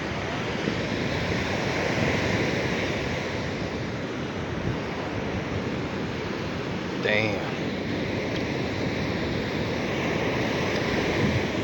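Strong ocean waves crash and hiss steadily on a beach during an outing, a loud continuous roar of surf with wind buffeting the microphone, and a man briefly curses over it.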